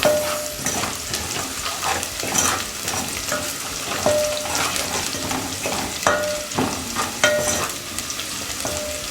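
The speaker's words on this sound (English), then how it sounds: "Make sure the onions are well cooked before you put in the tomatoes." Onions frying in a pan before tomatoes go in, a steady sizzle broken by repeated scraping stirs and clinks of a utensil against the pan, close and clear with no talking.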